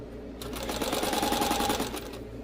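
Sewing machine stitching around a fabric scrunchie, a rapid, even mechanical chatter that starts, runs steadily for under two seconds and then stops, fairly quiet and close.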